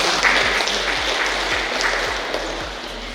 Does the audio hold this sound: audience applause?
yes